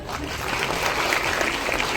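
An audience applauding the cast at a Marathi film event: a loud, dense, continuous wash of many hands clapping, steady throughout.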